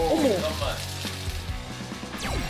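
Minari yukjeon, beef patties with Korean water parsley, frying in hot oil at a restaurant, giving a steady close sizzle under a busy, noisy room with voices speaking over it.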